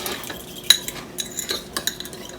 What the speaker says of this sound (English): you're just going to mix those real well until it's nice and creamy